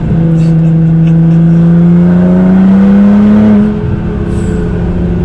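A Nissan GT-R accelerates hard, its engine note climbing steadily in a loud, smooth rising drone heard from inside the car, then easing off near the end as the pitch drops.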